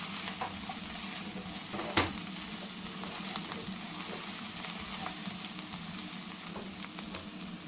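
Mushroom masala fries in a pan while being stirred, a steady close sizzle with frequent light scraping strokes and one sharper clink near the start, no talking.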